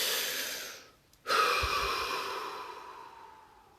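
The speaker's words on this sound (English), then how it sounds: "Deep breath." A single long, deep breath: a slow airy inhale, a brief pause, then an extended soft exhale trailing off, close and intimate in a quiet space.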